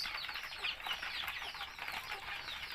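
Native Thai chickens in a farm pen: a dense, steady chorus of clucking and rustling wing flaps, moderately distant and continuous throughout, with no talk.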